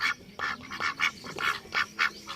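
Two female ducks quack close by in a steady, repeated series of nasal calls that keeps going without a break.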